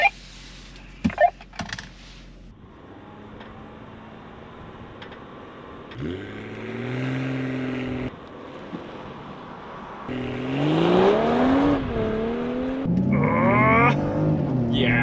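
Two SUVs, a 2022 BMW X3 M40 in Sport Plus with traction off and a 2022 Genesis GV70 3.5T, launch in a drag race with loud, rising engine revs and repeated upshifts, the roar swelling louder toward the end with brief voices near the start.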